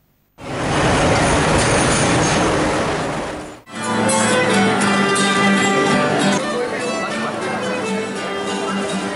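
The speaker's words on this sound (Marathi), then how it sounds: "उपरांत ट्रेन मडगांव स्टेशनार गेली।" A tourist train on the Goa–Mumbai route pulls into Madgaon station with a loud, steady rumble of rolling stock. A sharp break comes about a third of the way in, then the noise resumes with a more tonal, clattering character.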